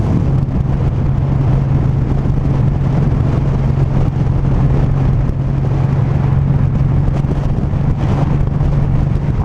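A Suzuki M109R cruiser motorcycle rides in 4th gear, its steady engine drone and low hum running continuously under heavy wind rush, loud and close throughout.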